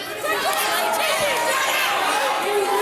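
Hometown crowd at a pro wrestling match in the Hall of Fame city roars and chatters in a dense, loud wash of voices, sustained throughout, with commentary heard over it.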